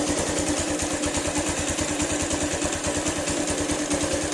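A Keeway Cafe Racer 152 motorcycle engine idles steadily after maintenance with a quick, even low putter, close and constant with no talk over it.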